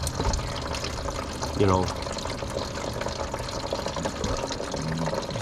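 Antifreeze coolant runs out of a 1974 AMC Javelin in a steady, close splashing stream, with a brief gurgling surge partway through, while someone talks over it.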